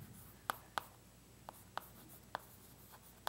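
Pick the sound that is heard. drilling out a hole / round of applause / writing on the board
writing on the board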